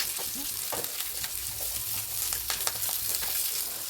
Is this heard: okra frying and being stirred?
yes